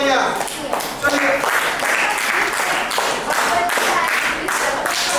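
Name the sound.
loud applause for children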